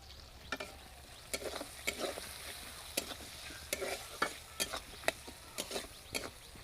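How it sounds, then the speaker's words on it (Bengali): Onions frying in a pan, a steady low sizzle broken by repeated sharp scraping clicks of stirring, close and fairly quiet with no voices. "পেঁয়াজটা ভালো করে ভাজা হলে সব মশলাগুলো একে একে দিয়ে দেব"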